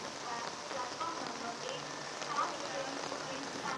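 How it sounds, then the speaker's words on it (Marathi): Heavy rain pours steadily at Thane railway station, a dense, even hiss of water falling on surfaces, moderately loud and continuous throughout. "ठाण्यामध्ये देखील मोठ्या प्रमाणात पाऊस कोसळतोय"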